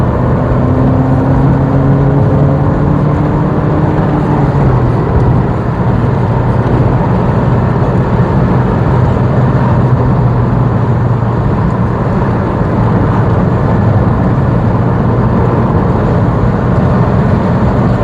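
An MG ZS 120 car accelerates on the road, its engine note climbing steadily through the gears beneath loud, constant road and wind noise inside the cabin.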